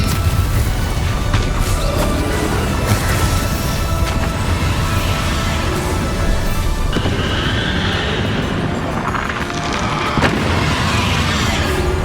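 A Confringo fire spell blasts during combat in the video game Hogwarts Legacy, loud and dense with booming impacts and crackling bursts layered over continuous battle noise.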